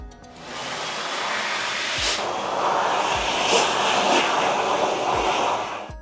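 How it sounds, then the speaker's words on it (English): A high-speed hand dryer roars loudly and steadily for several seconds, a broad rushing blast that cuts off at the end. "we're gonna go underneath the high-speed dryer"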